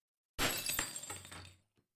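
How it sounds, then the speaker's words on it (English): A glass bottle tips off an edge and smashes, one sudden close crash followed by a bright shattering spray of shards that rings out and fades, with a small final clink. "a bottle rocked and slipped over the edge, followed by the smash of breaking glass"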